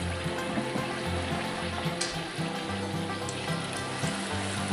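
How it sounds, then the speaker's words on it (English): Crackling, bubbling sizzle of battered pickles frying in hot oil in cast iron, steady and close, with a low background hum. "let the frying ensue"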